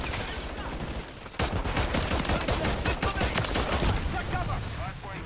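Pistol gunfire in Call of Duty: a rapid string of loud, sharp shots rattles close by for several seconds, with a brief lull before the firing resumes.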